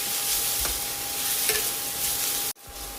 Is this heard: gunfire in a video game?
no